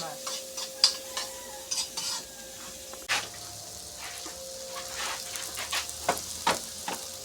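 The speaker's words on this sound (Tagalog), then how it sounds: "naggisa ng bawang sibuyas sa butter" Garlic and onion sautéing in a little butter, a soft sizzle under repeated scraping and stirring clinks of a utensil against the pan, quiet and close.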